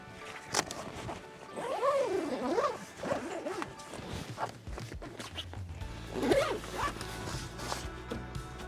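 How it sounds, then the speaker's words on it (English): A Dune roof top tent's fabric zipper being zipped closed near the ladder, with a few drawn-out zipping strokes and some rustling and knocks in between, close and fairly clear. "At the moment, I'm just gonna zip it up."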